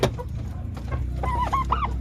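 Turkeys call in a farmyard: a few soft clucks, then a rising series of warbling, gobble-like calls, moderately close over steady background noise.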